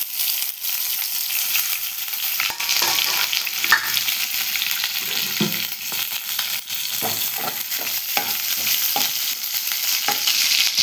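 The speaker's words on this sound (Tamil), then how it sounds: "வெங்காயம் நல்லா பொன்னிறமாக வதங்கிருச்சு." Chopped onion and chilli sautéing in hot oil with curry leaves and cumin, a loud dense sizzle running throughout with frequent light stirring scrapes and clicks close by, no voices.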